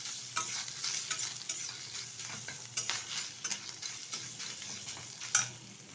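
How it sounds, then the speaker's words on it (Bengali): Grated coconut frying lightly in hot oil for lachha semai, with a steady soft sizzle broken by repeated scraping stirs of a spoon in the pan, close and fairly quiet, no talking. "তো নারকেলটা হালকাভাবে একটু ভেজে নেব।"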